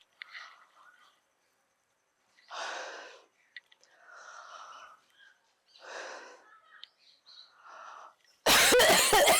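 A person coughing deliberately to bring up phlegm, several separate harsh coughs and throat-clearing bursts with quiet breathing between, close to the microphone, ending in a loud burst of noise.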